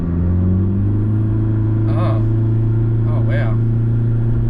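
Supercharged project car pulling hard at full throttle, a steady loud engine drone and rumble from inside the cabin, with a passenger's brief exclamations over it.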